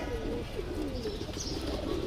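Pigeons kept in breeding pairs, ready to lay eggs, coo in low, throaty murmurs that run together into a steady, close-up burbling with no pauses throughout.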